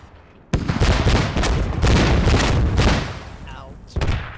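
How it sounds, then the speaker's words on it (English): Rockets fired in a video game training match: loud, rapid overlapping launches and blasts begin suddenly and continue in a dense barrage, easing off briefly before another burst near the end. "I love how everyone starts shooting rockets immediately."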